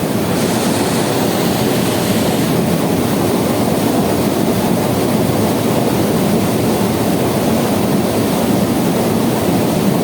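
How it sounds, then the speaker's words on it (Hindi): A thick stream of water gushes from a well at Namal Lake. It makes a steady, loud, roaring rush that fills the whole stretch without pause or talk. "ये देखिए पानी की धार कितनी मोटी जा रही है, और ये पानी की धार डैम की नमल लेक।"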